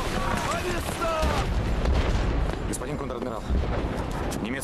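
In a 2008 naval war film, an artillery battery opens fire on a ship, giving heavy booming reports and rumbling blasts layered with dense battle noise that runs throughout.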